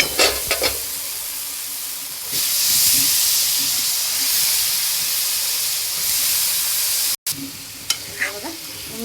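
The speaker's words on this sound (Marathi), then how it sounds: "आता यामध्ये मी गोबी टाकून घेते।" Cauliflower tipped into a pan of frying tomato onion masala for a Maharashtrian gobi bhaji brings a loud burst of sizzling and steam hiss that holds steady for several seconds, with clattering stirs at the start and end.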